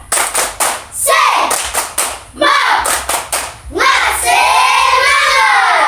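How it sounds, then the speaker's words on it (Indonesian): Schoolchildren in a classroom perform a rhythmic spirit clap, sharp clap bursts in a set pattern with loud shouted chant calls between them, close and lively. "Kalau masih semangat, kita tepuk semangat dulu."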